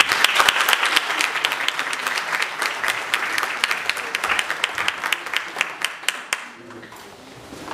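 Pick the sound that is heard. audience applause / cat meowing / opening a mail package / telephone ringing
audience applause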